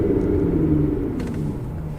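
Aston Martin Vanquish dropping from fourth gear to first over a short distance, a steady low engine rumble with smooth, even drone and no jolts, heard from inside the car.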